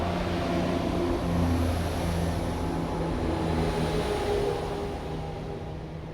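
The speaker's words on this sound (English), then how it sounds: "Here comes the train." Train rumbling past, heard as a steady low mechanical roar with a faint hum, loud and continuous before easing slightly at the end, with no voices.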